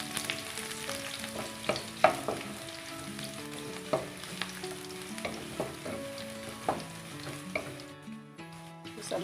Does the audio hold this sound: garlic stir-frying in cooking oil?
yes